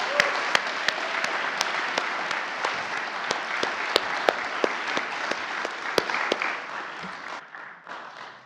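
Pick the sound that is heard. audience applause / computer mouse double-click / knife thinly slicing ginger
audience applause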